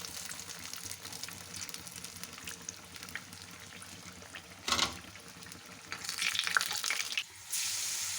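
Eggplant fritters frying in oil, a faint continuous sizzle joined by clinks and splashy, watery bursts near the end as the pieces are handled; no talking.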